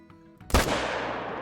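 A single loud rifle shot in the Call of the Wild hunting game, fired at a collared peccary on a new map, with a sharp crack and a long echoing tail that rolls away across the open landscape.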